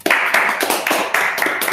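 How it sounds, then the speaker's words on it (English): A small group claps at a religious gathering, with close, sharp hand claps coming in quick uneven bursts and a few louder accents, briefly and on their own. "Clap it up."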